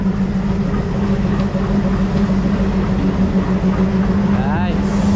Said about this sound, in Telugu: డీజిల్ లోకో 11438 అనమాట. WDM 3D